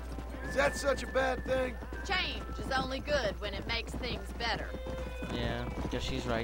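A horse clip-clops along at a steady pace with rhythmic hoofbeats and an occasional whinny in the Western game Red Dead Redemption, while characters hold a conversation over the hooves.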